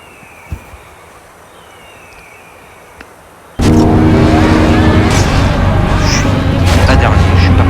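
A Hennessey Venom F5 engine in the racing game Asphalt 8 on an iPhone 16E: a few near-silent seconds, then a sudden loud, sustained roar that stays steady to the end.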